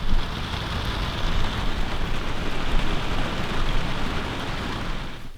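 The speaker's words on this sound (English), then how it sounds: "It's raining." Steady, heavy rain pours down during a windy storm on public land in Tennessee, a dense hiss of drops with a low rumble beneath, continuous throughout and close by.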